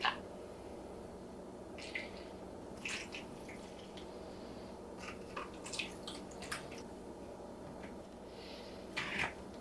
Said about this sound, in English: So I'm gonna go ahead and bottom water